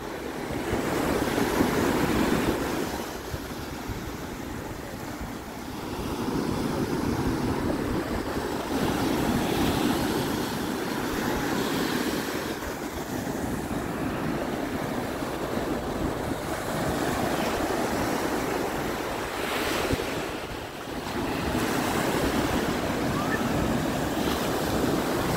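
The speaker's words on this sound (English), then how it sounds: "today the water is so, so rough. Unbelievable. The waves, oh boy" Rough ocean surf at Cancun, Mexico roars continuously, waves surging and crashing in broad swells reaching the palm trees, with heavy wind buffeting the microphone.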